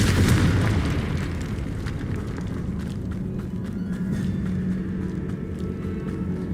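A blast from the Confringo spell in Hogwarts Legacy lands as a loud, deep boom that opens strongly and then rolls into a sustained low rumble that slowly fades, with no speech over it.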